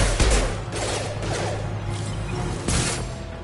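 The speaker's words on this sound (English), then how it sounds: "Firing a high impact shot." A concussive, high-impact shot fires in the Mass Effect 2 video game with a loud blast at the start, then sustained rumbling combat noise and a second heavy burst near the end.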